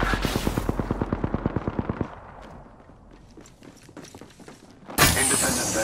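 Gunfire in the video game Apex Legends, with about two seconds of rapid automatic shots in an even burst, then scattered quieter impacts and clatter, and a sudden loud blast near the end.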